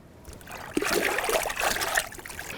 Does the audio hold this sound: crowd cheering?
no